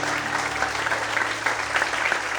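A church congregation applauds and glorifies the Lord during an evening service, a steady wash of clapping with a low hum and faint voices beneath.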